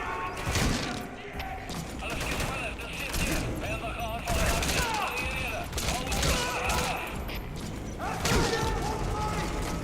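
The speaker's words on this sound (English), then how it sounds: "But who's shooting at me where?" Gunfire from the video game Metal Gear Solid 5, a dense stream of shots and clattering mechanisms mixed with game effects, loud and continuous throughout with a player talking over it.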